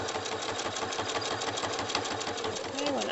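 A sewing machine stitches quilt binding with a fast, regular mechanical chatter, fairly loud and close, with a faint voice at the very end.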